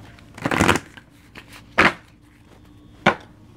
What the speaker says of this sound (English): All right, I won't spend too much time shuffling.